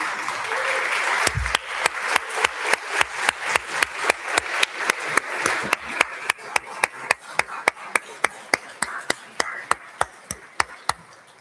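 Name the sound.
audience applause at graduation celebration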